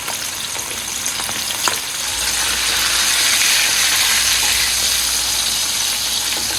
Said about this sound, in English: we're going to fry this for about 8 minutes until they're nice and crispy